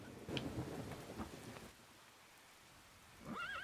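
Rain and rumbling thunder from Sierra's The Hobbit computer game, a low stormy wash with a louder rumble early on that fades into quieter rain, then a wavering electronic tone at the end.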